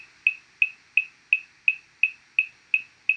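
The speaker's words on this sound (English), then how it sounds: "a wood block or a clave sound on every single beat," A bright wood block clicks nine times at a steady, even pulse, each hit short and hollow against near silence.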